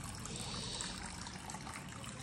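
Spring water trickling inside an enclosed stone well at a state park, a continuous close, dense gurgling flow with no pauses or voices.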